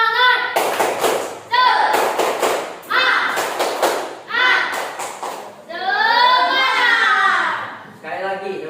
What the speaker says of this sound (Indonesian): Tepuk semangat, silakan.